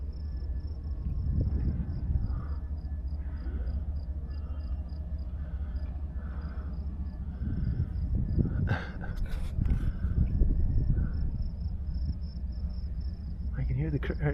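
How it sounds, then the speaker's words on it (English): Crickets chirp in a steady, thin, high drone heard from the water while paddle boarding, faint and continuous beneath low rumbling background noise and occasional nearby sounds. "I can hear the crickets."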